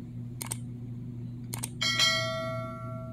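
Notification bell sound effect: two quick metallic clicks, then a bright bell chime that rings out and decays, alone with a low steady hum underneath.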